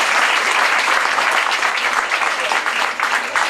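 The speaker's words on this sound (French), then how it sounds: "les vifs applaudissements de ce public" Sustained, dense applause from an audience at an international award ceremony in Nice, loud and steady throughout with no voices over it.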